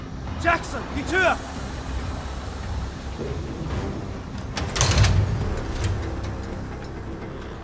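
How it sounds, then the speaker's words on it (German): A door opens amid gunfire and battle noise in Call of Duty: Vanguard, a dull mechanical thud and scrape near the five-second mark, with other clanks and a voice earlier in the scene. "Jackson, die Tür!"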